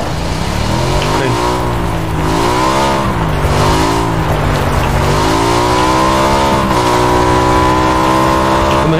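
A motorcycle races fast in the game PUBG, its loud, continuous engine note rising and falling in pitch with throttle changes for the whole stretch, with no talk over it.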